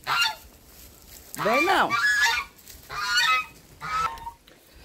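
Goose with outstretched neck honks loudly and close, four harsh calls spaced about a second apart, with a brief spoken remark between them.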